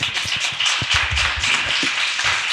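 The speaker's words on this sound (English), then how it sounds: "Applause." Brisk clapping from a small group at a startup pitch event, a dense burst of hand claps that holds steady for a couple of seconds.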